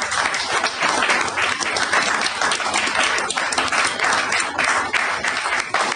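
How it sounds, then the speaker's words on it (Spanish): An audience at an evening talk with Marisa Duarte at Pichuco applauds, a dense, steady wash of clapping that stays loud and continuous throughout with no voices over it. "Le aplaudimos, le agradecemos esta presencia de Marisa Duarte"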